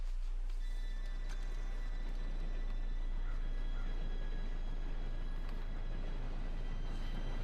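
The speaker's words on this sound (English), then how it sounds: "Train should be here any minute now." Steady rumbling train noise from Red Dead Redemption 2, with mechanical clatter and faint tonal whines, holding at an even level throughout as the train approaches in the game.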